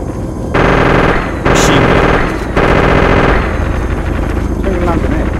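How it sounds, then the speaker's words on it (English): Video game machine gun fire in Arma 2, loud sustained bursts of rapid automatic shots that start and stop several times, close and harsh over a rumbling battlefield background. "Tell him to stop firing! Machine gun."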